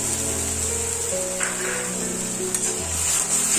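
Ginger garlic paste sautéing in a pan for chicken pepper fry gives a steady, soft sizzling hiss throughout, with faint stirring clicks and a low hum underneath.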